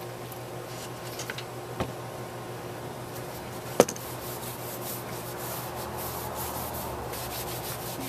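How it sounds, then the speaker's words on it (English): Cloth wiping a golf cart handle down with TSP substitute cleaner before painting, a steady soft rubbing hiss throughout with a couple of faint taps, close and quiet, no talking. "I'm going to wipe it down with some TSP substitute just to make sure that it's ready to paint."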